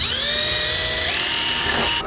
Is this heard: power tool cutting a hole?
yes